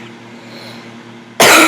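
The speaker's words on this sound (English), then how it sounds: "Sorry about my cough right there." A single sharp cough bursts in near the end, loud and close, after a stretch of quiet room hum.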